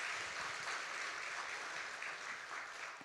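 A church congregation gives a round of thanksgiving applause during a Sunday worship service, a steady wash of many hands clapping, fairly faint and distant throughout.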